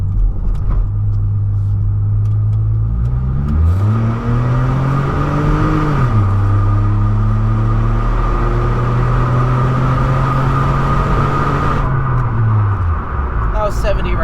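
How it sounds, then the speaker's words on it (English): Pontiac G6 with a muffler delete pulling onto a highway with the windows up: a loud, raspy exhaust drone climbs through the gears, with pitch dips at the shifts, over steady road and wind noise. "We'll do one more pull onto the highway with the windows up"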